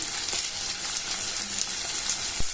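Capsicum and onion frying with turmeric and salt sizzle with a bright, crackling hiss, broken by a few soft scrapes of stirring; steady and close for a few seconds.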